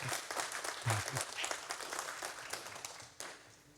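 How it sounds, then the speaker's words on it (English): An audience applauds for a speaker at an investment talk, with a short burst of clapping that thins out over a few seconds and faint voices underneath. "round of applause for Laura Foll, who's going to..."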